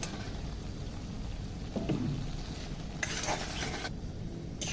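Chopped tomato goes into spices frying in a pan and is stirred, giving a soft close sizzle with scraping spoon strokes and a few brief clatters against the pan, fairly quiet overall.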